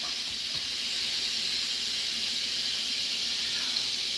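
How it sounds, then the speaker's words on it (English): Fish being rinsed under a running kitchen tap while preparing oha soup, a steady close hiss of flowing water that holds even throughout with no talk over it. "I'm gonna wash that fish right now."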